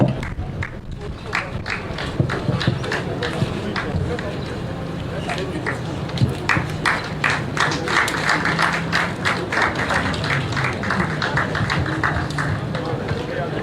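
Applause from a ceremony audience honoring a minister at a COVID-19 donation handover, a dense stream of claps that swells and becomes more sharply defined partway through, steady and fairly loud.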